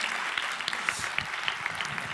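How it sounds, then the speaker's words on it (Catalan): Applause from a school audience honouring a student at an educational awards event, a steady dense patter of many hands, fairly distant and moderately loud, with no voices over it. "Doncs per la Júlia del Jordà, un fortíssim aplaudiment!"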